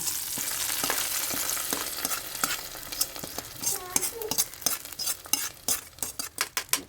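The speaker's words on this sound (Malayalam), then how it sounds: "നന്നായിട്ടൊന്ന് മിക്സ് ചെയ്ത് കൊടുക്കാം" A koottan curry is stirred in a pan, with soft frying sizzle under repeated scraping strokes that grow quicker and sharper toward the end.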